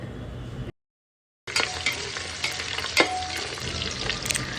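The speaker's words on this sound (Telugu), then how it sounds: "ఆ టైంలో చాప్ చేసుకుని పెట్టుకున్న చిల్లీస్ అండ్ ఆనియన్స్ యాడ్ చేసుకోండి. ఈ ఆనియన్స్ గోల్డెన్ బ్రౌన్లోకి వచ్చే వరకు సాట్ చేసుకోవాలి." Chopped chillies and onions sauté in a cooker for chicken biryani, crackling and sizzling close up with spoon clinks, after a brief gap of silence near the start.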